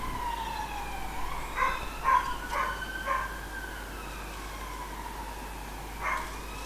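A blackbird sings a rising and falling whistled phrase that imitates a police siren, repeated several times at moderate distance over steady outdoor background noise.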